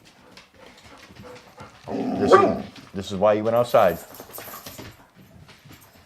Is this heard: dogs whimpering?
yes